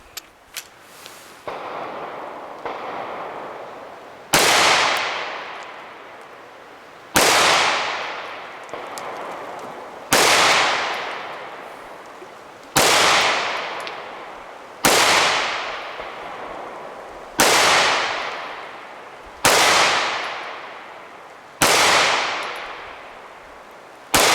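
A Smith & Wesson M&P 2.0 9mm pistol fired at an outdoor range from 7 yards, about nine loud, sharp reports with ringing decays, spaced a couple of seconds apart, preceded by a few fainter clicks and thumps.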